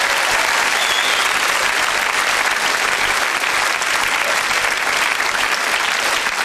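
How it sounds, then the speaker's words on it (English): A studio audience at a 1987 live comedy show breaks into loud, sustained applause, a thick, unbroken roar of many hands clapping with no voices over it. "Give him another round of applause."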